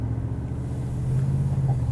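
A low engine rumble from a pickup truck towing a trailer, swelling slightly as it pulls away, steady and close.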